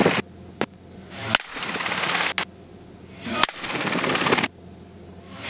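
Gunshots fired from a helicopter at hogs ring out as sharp, loud cracks, a handful spaced over several seconds, set against the steady roar of the aircraft.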